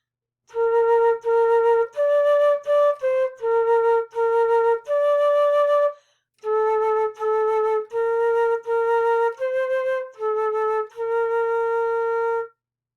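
A flute plays a clear melody of sustained and shorter notes, with a brief pause midway, loud and close with no talking.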